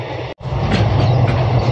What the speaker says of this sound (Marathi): आज आहोत ट्रेनमध्ये